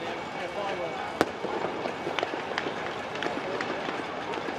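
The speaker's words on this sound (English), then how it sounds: "We heard gunfire coming from the police station's direction." A sharp, loud gunshot cracks out over a noisy crowd of protesters near a police station in Egypt, followed by a few fainter distant pops scattered through the steady commotion.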